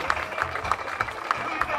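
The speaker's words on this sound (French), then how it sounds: "Applaudissez, applaudissez." Applause from a gathering at a ceremony handing over 14 donated computers to a school in Gueoul, Senegal, a steady patter of many hands with a rhythmic swell, moderately loud over the whole short stretch.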